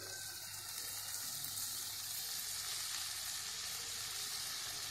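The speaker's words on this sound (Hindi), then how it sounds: "पत्ता गोभी को भी हम अच्छी तरह से मिक्स कर लेंगे।" Shredded cabbage being stirred into potatoes and peas frying in a pan for a home-style Indian sabzi, giving a steady, even sizzle throughout with no one speaking.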